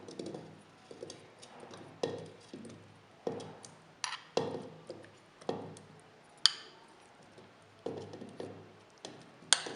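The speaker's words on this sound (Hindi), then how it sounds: "सबसे पहले जार में टमाटर डालेंगे।" Tomatoes drop into a grinder jar for a tomato and mint chutney, giving a series of close, sharp knocks and soft thuds at irregular intervals about a second apart, with quiet pauses between them.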